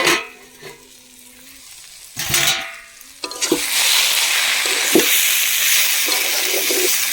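Cabbage curry in a pan, first with a few scrapes and bumps, then a loud sustained sizzle as it is stirred, close and continuous to the end.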